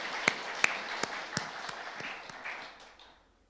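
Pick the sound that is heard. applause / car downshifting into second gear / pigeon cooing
applause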